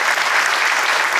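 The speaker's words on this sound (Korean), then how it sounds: "우리 박수 한번 하겠습니다." Dense, even applause from a Korean church audience honoring a pastor, a loud continuous wash of many hands with no gaps.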